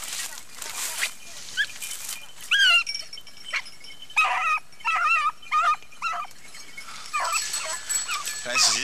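Hunting dogs on a rabbit hunt give sharp, excited barks and yips in quick bursts, some close and some farther off, outdoors, while people talk between them.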